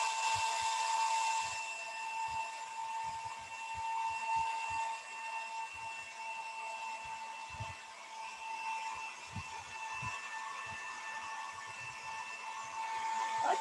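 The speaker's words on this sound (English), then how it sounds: "I'll use the hairdryer way up high so it doesn't blow that stuff around" A hair dryer held well above a watercolor painting runs steadily on high, a continuous airy whoosh with a faint whine, loud and unbroken throughout, with scattered soft clicks and taps underneath.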